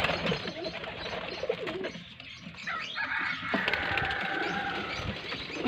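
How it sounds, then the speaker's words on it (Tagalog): A pigeon coos softly nearby amid some rustling and faint background noise, with a brief flutter of movement. "kalapati na naman"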